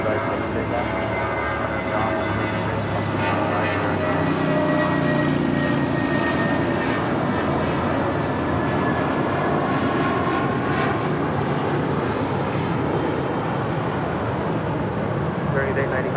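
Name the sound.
airliner taking off from LAX runway 25 right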